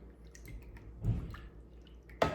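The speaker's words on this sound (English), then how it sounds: "And I let this sit and drip a little bit more out of there." Fresh mandarin orange juice dripping, a few soft irregular drips and small wet splashes, faint and close in a quiet kitchen.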